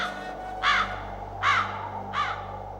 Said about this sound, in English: no birds ever sing, excepting old crows